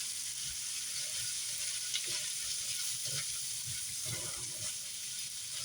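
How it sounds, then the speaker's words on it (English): Carrots, corn, onion, ginger and garlic fry in a pan for shrimp fried rice, with a soft, steady sizzle and hiss and a few faint stirring scrapes, quiet and alone. "And then once that softens up, I'm going to add the ginger and the garlic."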